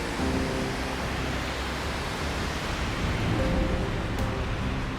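A forest waterfall near a mountain hut on a hiking trail roars as a dense, steady rush of falling water, close and constant with no breaks.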